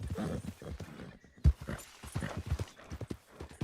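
Horse hooves clip-clop with a short whinny in Red Dead Online, as a horse follows near a house. There is an irregular run of soft hoof steps and one sharp louder hit partway through, with no talking.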